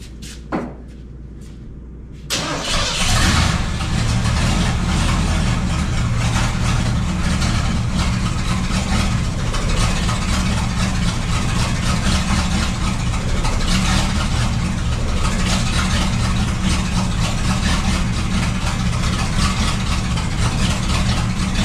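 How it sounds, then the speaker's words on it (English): A Ford F-150 pickup truck engine cranks and catches, then settles into a steady, loud, rumbling idle that runs on unchanged. "now we're fixing to start the truck up and check for leaks"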